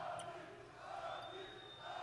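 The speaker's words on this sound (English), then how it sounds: "what do you think of the crowd here? Because they've been very loud leading into this fight" Loud, sustained crowd noise fills a UFC 229 pre-fight press conference for Khabib Nurmagomedov vs Conor McGregor, a steady roar of many voices that swells and dips without pause.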